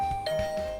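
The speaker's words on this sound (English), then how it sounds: "the doorbell rang" A two-tone doorbell chime rings once in a video game: a clear bright ding followed by a lower sustained dong that rings out and fades, with no voices.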